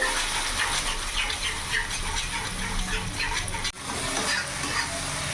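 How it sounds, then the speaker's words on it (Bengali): Yogurt being stirred into a sizzling spice masala for katla fish kalia, a steady loud frying hiss with scraping spoon strokes throughout and a brief dip near the end. "দইটা দেওয়ার সাথে সাথে অনবরত নেড়ে দিতে হবে"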